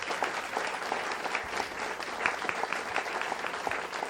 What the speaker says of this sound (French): J'aimerais ça qu'on les applaudisse et leur dire merci.